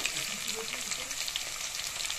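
Potatoes and onion fry in a pan with a steady, close, hissing sizzle, and a brief stir of the pan shifts the texture partway through; no one speaks.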